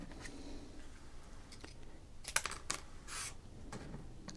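Scissors snipping through a baseball card, a series of crisp close clicks and cuts at an irregular pace, quiet and intimate with a soft background hiss.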